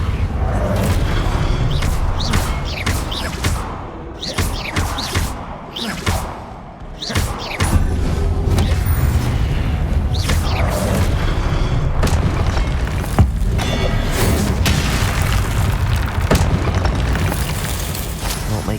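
Repeated Confringo blast spells detonate in Hogwarts Legacy on PS5, deep booming explosions rolling one after another over a dense, continuous game soundscape with no talk.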